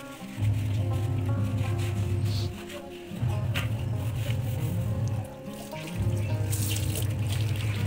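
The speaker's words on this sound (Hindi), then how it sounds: "अब मैं इसको धो लेती हूँ फटाफट" A utensil is washed under a running kitchen tap, with a steady, close rush of water broken by short pauses and muffled splashing as the item moves through the stream, and no talking.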